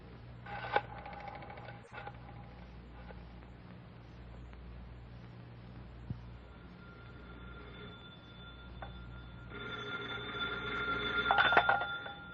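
Telephone dialing and a ringing bell in an old-time radio drama, heard as studio sound effects with a short sharp click early and a brighter burst of ringing toward the end over a steady background hum.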